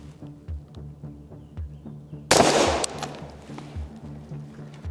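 A single loud gunshot cracks out mid-clip at a shooting range, fired at a target 10 yards downrange, ringing briefly over a steady low background hum.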